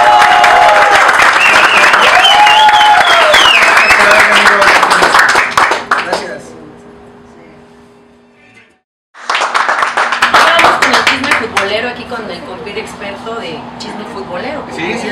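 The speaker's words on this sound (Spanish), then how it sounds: "¡Un aplauso grande!" Audience at a local Cuernavaca show clapping and cheering loudly, then dropping to near silence before a second round of applause and crowd noise, with voices mixed in.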